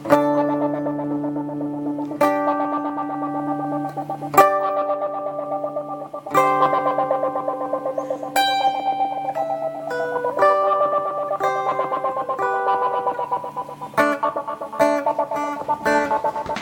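Clean electric guitar played through Dual and Filter effects machines, sustained chords struck about every two seconds with echoing, layered tails, loud and alone.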